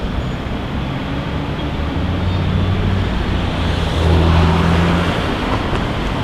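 Buses at Tung Chung on Lantau Island, Hong Kong, rumble and idle amid steady road traffic, a continuous low engine drone that swells as one moves closer, with no talk.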